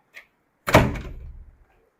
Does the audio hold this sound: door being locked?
yes